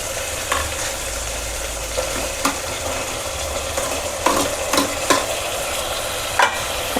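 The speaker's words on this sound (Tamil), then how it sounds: "தக்காளியை போட்டு நல்லா வதக்கிடணும்" Tomatoes sautéing with ginger garlic paste in a pan for mutton macaroni, a constant close sizzle punctuated by periodic spoon scrapes and stirs, with no voices.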